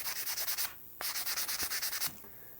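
Metal fret file crowning the frets on a Squier Affinity Stratocaster, a quick rhythmic series of close rasping strokes in two bursts separated by a short pause.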